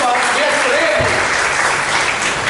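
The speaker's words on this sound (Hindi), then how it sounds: "आप तालियां बजाकर उनका स्वागत करें।" A conference audience applauding to welcome a speaker, a dense, steady wash of clapping from a large crowd, loud and sustained throughout, with a brief voice heard at the start.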